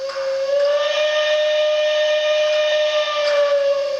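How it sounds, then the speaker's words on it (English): Steam whistle from an ESU DCC sound-equipped model Union Pacific locomotive, a single sustained tonal blast held steadily for several seconds, clear and alone with a faint hiss beneath. "I'm in that engine to be able to blow the whistle."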